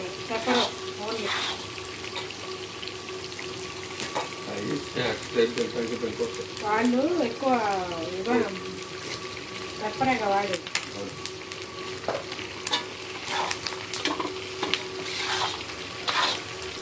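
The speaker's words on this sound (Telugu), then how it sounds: "ఇది మటన్ లివర్ ఫ్రై అనమాట" Mutton liver frying with pepper in a pan: a continuous sizzle with stirring scrapes and some running-water noise, under intermittent talk and a voice carrying on nearby.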